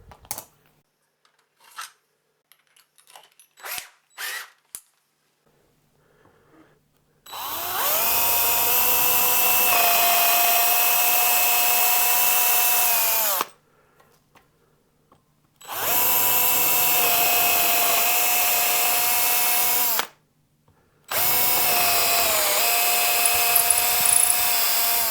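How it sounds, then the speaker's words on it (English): A power drill with a 5.5mm bit widens screw holes in a Squire Stratocaster guitar body, with three long, loud whining bursts separated by short pauses, following some quiet handling taps. "break out a drill very quickly and just open those out a little bit more"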